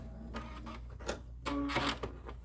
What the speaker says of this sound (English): We're going to stitch this.